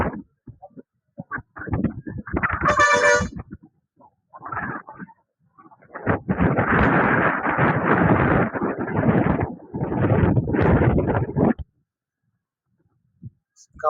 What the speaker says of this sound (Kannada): ಸಿಕ್ಕಾಪಟ್ಟಿ ಗಾಳಿ ಬಿಟ್ಟೈತ್ರಿ.